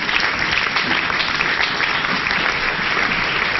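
Church congregation applauding the Lord, dense sustained clapping from a large crowd, loud and even throughout without a break.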